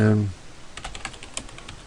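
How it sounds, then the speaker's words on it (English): Keys clatter on a computer keyboard as a Windows command is typed, a quick burst of close, crisp taps that follows a brief stretch of speech. "So I'm going to type the command diskpart."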